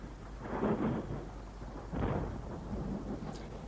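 Thunder from a passing storm rolls in two deep, rumbling swells, distant and steady, heard alone as a radio drama sound effect.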